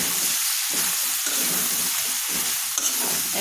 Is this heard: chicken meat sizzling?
yes